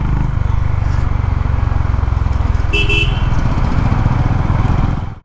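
A Honda CB350 RS motorcycle rides along with a steady, loud, close engine thrum that holds evenly and then cuts off abruptly at the end.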